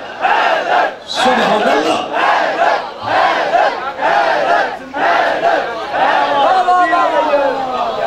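A large crowd at a devotional gathering with arms raised, chanting "Haidar, Haidar" in loud, rhythmic surges roughly once a second. The voices are dense and sustained, with short dips between chants.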